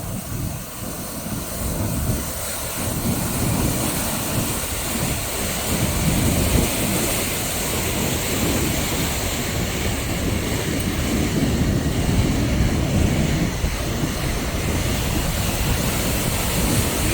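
A constant roar of falling water from Vernal Fall or Nevada Fall on the Mist Trail fills the scene, dense and steady throughout, heard close with no one speaking.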